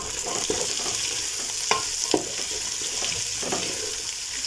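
A handful of boiled beans mixed in a hot pot for a rice dish, giving a continuous loud sizzle with a few sharper scraping strokes of a spoon, close up and without speech.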